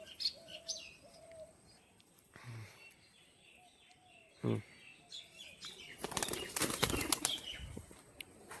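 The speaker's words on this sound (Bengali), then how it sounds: "ছেড়ে দেওয়া হলো চারটে পায়রা" Bursts of wing flapping as four pigeons are released and take off, loud clattering toward the end over faint background chirps and coos.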